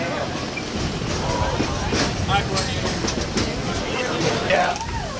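Magic Kingdom railroad train rolling into Main Street Station, with a continuous rumble and faint clatter of the cars, and people talking over it.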